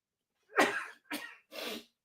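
Three sneezes come in quick succession from a radio host on air, each a loud, close burst separated by brief silence.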